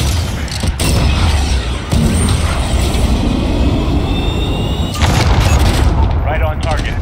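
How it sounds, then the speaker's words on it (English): Heavy booming blasts and rumbling battle noise from a missile strike in Call of Duty Modern Warfare 2019 team deathmatch on Cheshire Park, dense and loud throughout with several sharp hits and crackling gunfire. "Missile away."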